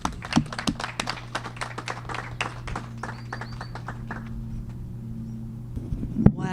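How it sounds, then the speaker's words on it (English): An audience at an IONS-LA gathering claps for a flute player: brisk, dense clapping at first that thins out and fades, over a steady low hum in the room. "let's give her a big round of applause."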